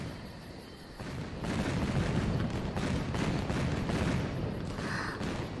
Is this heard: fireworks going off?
yes